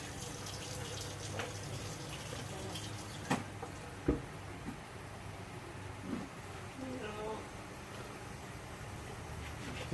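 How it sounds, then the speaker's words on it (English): Tap water pours steadily into a Mr. Beer homebrew fermenter keg, a close continuous filling rush with a few light clunks and no talking. "So it's just filling up now to line 2 behind me here."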